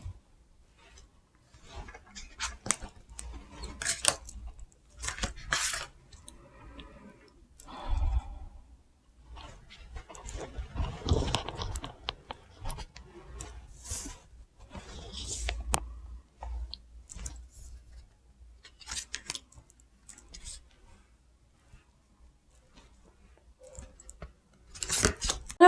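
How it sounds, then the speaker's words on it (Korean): Tarot cards laid out one by one on a table for a monthly horoscope reading, giving soft repeated snaps, clicks and slides that come in irregular bursts, close and fairly quiet, with no talk over them. "카드 나열 해보도록 하겠습니다."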